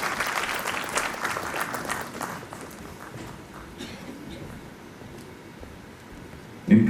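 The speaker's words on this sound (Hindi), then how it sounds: "जोरदार तालियां अब्बास साहब के लिए" Applause from an audience at a university convocation ceremony in Srinagar, a dense patter of clapping strongest at the start and thinning to a softer, fainter spatter before a brief louder sound at the end.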